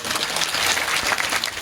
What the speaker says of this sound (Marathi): सर्वांनी टाळ्या वाजवा